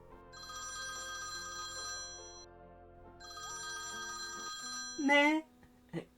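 A telephone rings in two electronic trilling bursts separated by a short pause, followed by a voice speaking briefly after the ringing stops.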